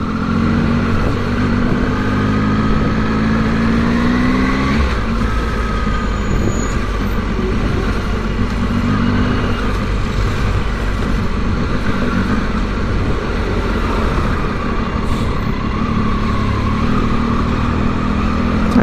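A 2020 Triumph Tiger 800 motorcycle engine hums steadily while riding in heavy traffic, loud and continuous surrounding traffic noise, with an engine pitch shift early on.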